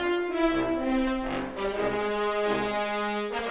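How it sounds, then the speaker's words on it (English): Layered orchestral horns and trombones from a Cinesamples library sound together in a dense, swelling brass passage, with full sustained chords and rising accents and no talking. "So if I just solo the horns and the trombones, this is what it sounds like."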